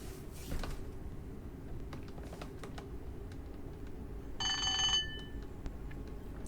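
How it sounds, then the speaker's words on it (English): AWS warning alarm in a Class 455 cab in Train Simulator 2021, a short bell-like ring lasting about half a second over steady cab rumble and scattered clicks, with no talking. "It's the alarm for the AWS, isn't it?"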